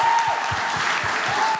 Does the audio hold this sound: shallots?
no